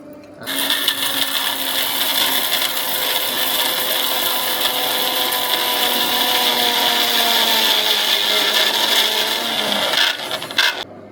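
A kitchen mixer grinder whirring steadily as it grinds almonds and cashews into a paste for gravy, a loud continuous buzzing hum that changes pitch slightly, then cuts off near the end.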